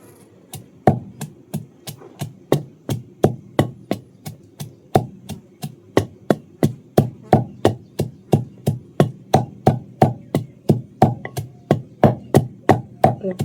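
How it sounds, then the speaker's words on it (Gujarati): Chili pounded in a wooden mortar, steady rhythmic thuds repeating about every half second for the whole stretch, close and firm, with no talking. "હવે આપણે ફટાફટ મરચું ખાંડી નાખીએ"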